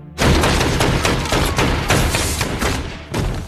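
Rapid, dense gunfire bursts and booms in the film xXx (2002) fill the scene continuously, loud and close, with a brief dip near the end before firing resumes.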